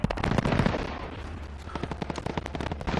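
Rapid automatic gunfire in Call of Duty: Modern Warfare, dense bursts of loud shots at the start, a brief lull, then more sharp rounds in quick succession.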